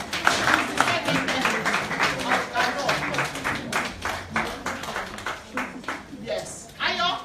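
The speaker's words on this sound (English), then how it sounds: "Can we give her a round of applause?" An audience at an event applauds a guest, Baroness Jumoke Ayo, with steady clapping running under a speaker's voice.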